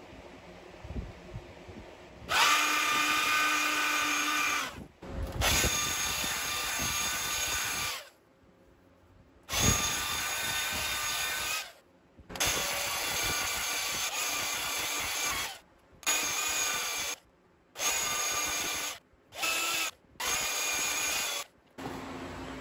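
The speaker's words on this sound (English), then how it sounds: "So just ran the belt sander over the edge." A belt sander grinds along the edge of a machete made from a saw blade in a workshop, running in repeated loud passes of several seconds each with short pauses between them.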